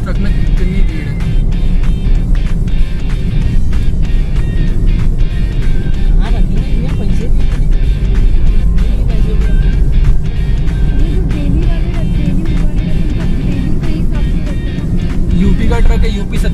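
A crowded UP-registered truck and other traffic roll along a road during lockdown, giving a steady, loud engine rumble and road roar that runs unbroken throughout, with voices talking over it.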